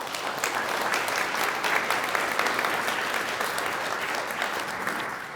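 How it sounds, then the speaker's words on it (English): Audience at a State of the Bay conference applauds in a dense, even burst of clapping that holds steady for about five seconds, many hands together with no talk over it. "I just want to give a round of applause to them for their work"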